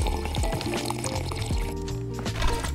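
Water filling an empty bottle in the Roblox survival game Aftermath, a steady liquid pouring and gurgling sound with rising tones, loud and continuous for a few seconds without talk.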